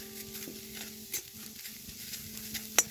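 Onions browning in a pan, nearly oil-free, with faint, quiet sizzle and occasional soft stirring scrapes and a small clink near the end; no talk.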